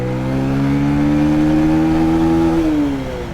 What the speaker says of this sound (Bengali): দেখি যদি আমি ফার্স্ট গিয়ারে বাইকটা টান দেই